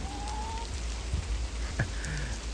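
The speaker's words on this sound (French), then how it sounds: "Mais il pleut, donc on est obligé de s'abriter" Rain falls at a bivouac in the Aveyron countryside, a steady hissing patter filling the scene with a few faint distant bird calls and small knocks on top.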